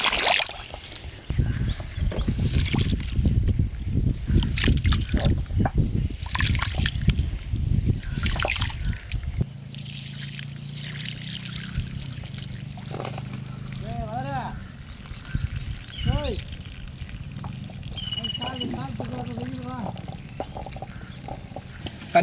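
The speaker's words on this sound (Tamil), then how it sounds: "அரிசி நல்லா கழுவி எடுத்துக்கலாம்." Rice washed in water in a village kitchen: splashing and sloshing at first, then quieter trickles and dribbles, with a voice speaking briefly during the later part.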